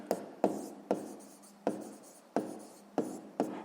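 A pen writing on paper in short bursts, about seven quick strokes in an even rhythm, close and quiet, with no voices.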